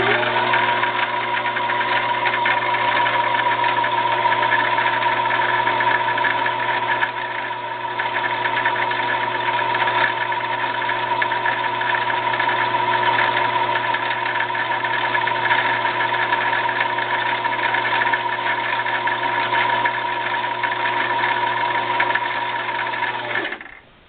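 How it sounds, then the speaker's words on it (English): A Brother LX3014 sewing machine winding a bobbin runs with a steady, even motor hum and whir, close and continuous, before stopping abruptly at the end. "continue to push down on the foot pedal to wind the bobbin."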